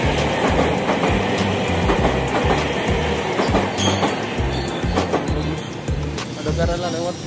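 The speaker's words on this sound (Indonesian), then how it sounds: "Ada kereta lewat." A train rolls past in central Jakarta near the Tamrin area of Tanah Abang, with a steady rhythmic clickety-clack of wheels over rail joints, loud and close, under constant city noise.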